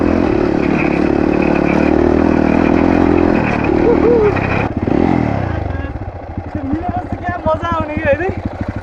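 A motorcycle engine drones loudly and steadily while riding, then eases off and idles as a voice talks nearby.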